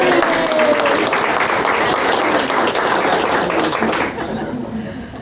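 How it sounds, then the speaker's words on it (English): Loud, dense applause from a crowd at a bank ribbon cutting, carried over a constant outdoor wash with a few chuckles and murmurs, fading quickly near the end. "So a big round of applause for Jacqueline"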